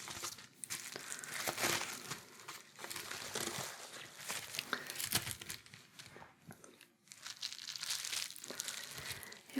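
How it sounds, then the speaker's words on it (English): Crinkle wrap material worn like gloves, crinkled and crushed by hand in a close binaural spa setting, with steady crisp crackling and rustling, with brief pauses and bursts of louder crunching. "I'll just put my crinkle wrap gloves on"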